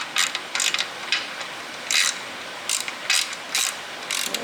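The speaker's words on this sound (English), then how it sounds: "Take a 7mm, we're going to tighten this up." A 7mm ratchet tightens a cable clamp on a budget JC Penney minibike build, giving several short, close bursts of crisp pawl clicking separated by brief pauses.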